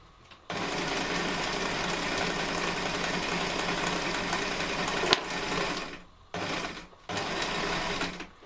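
A sewing machine stitches fabric for a liner, a steady close mechanical whirring that runs for several seconds, pauses briefly and then resumes in short bursts.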